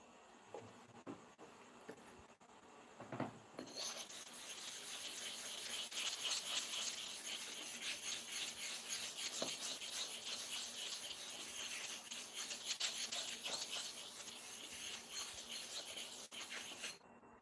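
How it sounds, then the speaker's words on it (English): A barber's clipper blade is sharpened with a steady, dry scraping and rubbing that starts after a few quiet seconds and carries on close and evenly for the rest of the stretch. "you'll be completely sure that the clipper blade has been sharpened correctly"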